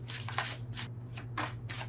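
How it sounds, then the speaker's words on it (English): A deck of tarot cards is shuffled by hand in several brisk riffling bursts, close and fairly loud, over a low steady hum, with no talking. "One more shuffle."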